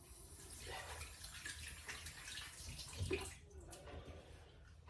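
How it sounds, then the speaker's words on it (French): Faint running tap water splashes over hands being rinsed in a home kitchen, a soft continuous wash with small clinks and shifts partway through. "Me passer les mains à l'eau."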